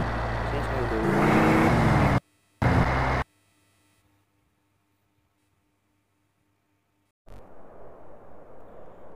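Mitsubishi Evo car driving in the SA-MP game: a loud engine drone cuts off, then a short burst of engine and a long quiet gap before a pulsing motor sound comes back near the end.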